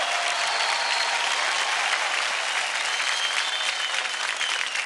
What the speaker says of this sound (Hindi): एक बार फिर से तालियां हो जाए सनम के लिए